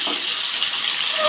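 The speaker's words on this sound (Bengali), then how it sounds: "ভালো করে ভেজে দেবো" Pointed gourd pieces frying in hot oil with salt and turmeric in a home kitchen, giving a steady, close hiss of sizzling that holds evenly for the whole moment with no voices over it.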